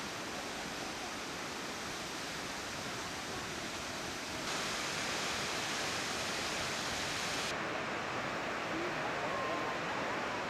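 Thompson Falls in Kenya, where the river plunges about 245 feet into a boulder-strewn gorge, gives a dense, continuous roar of rushing water that fills the scene at steady loudness.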